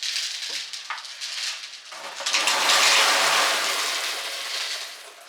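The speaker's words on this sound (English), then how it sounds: "Tip the pasta into the jug." Dry pasta tipped through a funnel into a jug, a rattling pour that starts in small bursts and builds to a continuous rushing cascade before easing off, close and fairly quiet.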